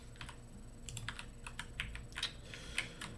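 A computer keyboard rattles steadily under play of a real-time strategy game, with quick irregular key presses and clusters of sharper clicks over a faint background hum.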